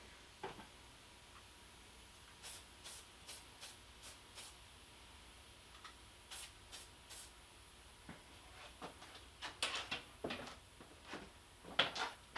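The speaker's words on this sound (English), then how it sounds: "I'm going to spray a little bit of Real Magic on the line" Short hissing spray bursts of Real Magic line conditioner onto fishing line on a spinning reel, about a dozen in quick succession, some clustered and some spaced apart, with light clicks between them in a quiet room.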